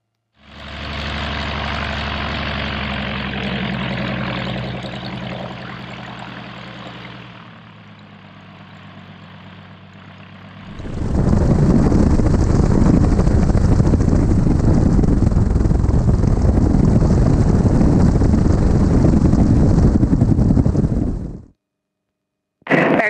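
Small Fairchild propeller airplane taxiing on runway 22 left at an airfield, a steady close engine drone that dips to a lower idle midway, then swells loud and even before cutting off abruptly.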